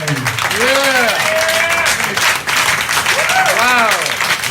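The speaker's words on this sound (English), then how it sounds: "Give a round of applause, everybody." Loud, close applause from a tribute gathering, a dense wash of clapping running throughout while a voice talks and calls out over it in rising and falling tones.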